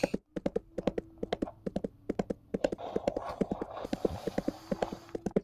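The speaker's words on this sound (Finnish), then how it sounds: "Mä kuulen uuden hevosen äänen" Horse hooves clip-clopping at a brisk, regular walk, sharp close hollow knocks repeating rapidly over a faint background hum.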